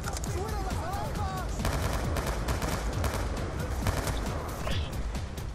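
Rapid automatic gunfire in the video game Call of Duty Black Ops 2, dense crackling bursts of shots mixed with explosions and game effects, loud and continuous, with a player's voice talking over it.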